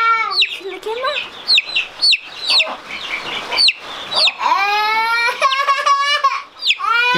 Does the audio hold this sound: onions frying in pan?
no